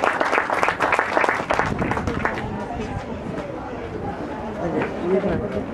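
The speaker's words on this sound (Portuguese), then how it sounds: "Ainda bem que há palmas, porque sabem muito bem ouvir." Applause from a small audience at a book launch in Portuguese, clapping loudly at first and then thinning out under murmured chatter and a voice talking nearby.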